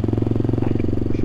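A CCM Spitfire motorcycle engine runs close by, a loud, steady, throbbing single-cylinder beat with rapid regular pulses and no talk over it.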